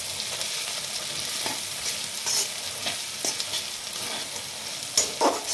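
Ground turmeric, cumin and chilli powder fry with ginger-garlic paste in a pan, giving a steady close sizzle broken by several scraping stirs. There is no talking.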